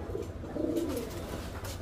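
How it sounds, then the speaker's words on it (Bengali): A pair of red pigeons coo softly and continuously, low throaty calls repeating close by with no talking. "দর্শক এই হচ্ছে নর কবুতরটা"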